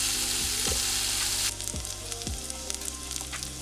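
Sausages frying on a camping hot plate give a steady, loud sizzle that drops suddenly and settles into a quieter crackle with scattered pops, close by and with no talking.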